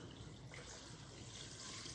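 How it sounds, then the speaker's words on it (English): Roughly two cups of water pouring into a cooking pot over rouladen meat and vegetables, a soft steady splashing stream, quiet and continuous with no talk. "This is probably 2 cups of water."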